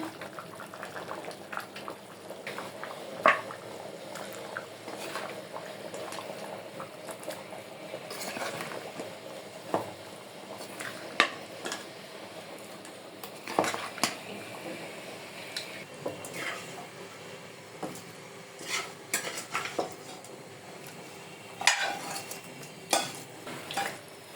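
Dal with mutton bones being stirred in a pot over the stove: quiet bubbling runs throughout, broken by scattered scrapes and clanks of a utensil against the pot, close but soft, with no talking.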